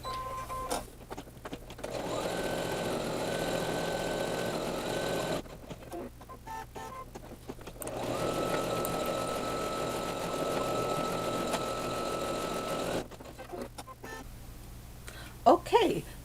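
An embroidery machine stitches an applique tack-down for clouds, producing a steady mechanical whir in long runs that stop and restart between pauses. A few sharp clicks come near the end.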